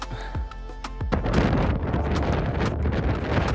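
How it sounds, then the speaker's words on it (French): Strong wind on a mountain hike in Colombia buffets the microphone in continuous roaring gusts, loud and close, with no voices. "Il y a beaucoup de vent sur cette randonnée"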